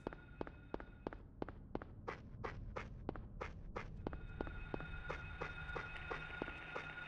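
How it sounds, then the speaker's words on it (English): Footsteps on grass in Silent Hill, a steady walking rhythm of soft crunching steps at about two per second, close and clear, with a faint tonal drone entering partway through. "The grass footstep noise is a bit strange."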